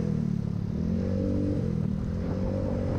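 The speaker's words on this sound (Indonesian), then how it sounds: "dia tertarik juga mendengarkan suara motor kita ya, karena motor kita kecil tapi suaranya besar" A small bored and stroked 200 cc Yamaha Soul GT motorcycle engine rumbles steadily and loudly, with a low throaty drone and slight rises in pitch.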